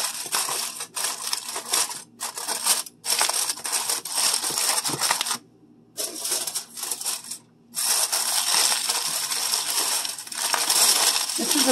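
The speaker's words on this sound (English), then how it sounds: "Now you're going to cover it" Aluminium foil crinkled and pressed over a dish of cheeseburger macaroni, loud close crumpling and rustling in long bursts broken by two short pauses.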